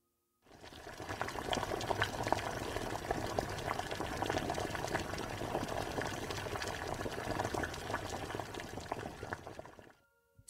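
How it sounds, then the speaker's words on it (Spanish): Soup boiling in a pot gives a steady, dense bubbling and burbling that holds at an even loudness for about ten seconds, with no voices. "podíamos oír el borboriteo de la sopa hirviendo en la marmita"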